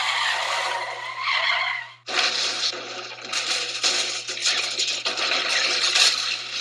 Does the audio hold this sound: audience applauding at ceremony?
no